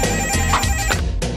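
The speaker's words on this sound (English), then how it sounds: "When the phone rang" Telephone ringing in a 1980s home, a short electronic ring with a couple of bursts over a busy background, fairly close and unaccompanied by speech.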